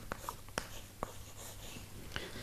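A pen scratches out Punjabi script by hand, with a few short, close, quiet strokes and taps in quick succession over a soft room hiss.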